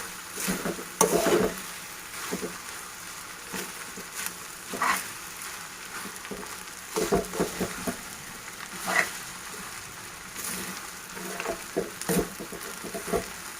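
Vegetable fried rice is tossed and stirred in a pan over a high flame, giving a soft continuous sizzle broken by irregular scraping and clattering strokes.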